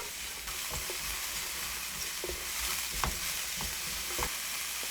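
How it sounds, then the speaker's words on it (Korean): King oyster mushrooms and minced garlic stir-fry in a pan over medium heat, giving a dense, continuous sizzle with repeated scraping stirs close by and no voices. "다진 마늘 1스푼 넣어 중불에서 30초 정도 볶은 후 새송이 버섯을 넣어 1분 볶아주세요"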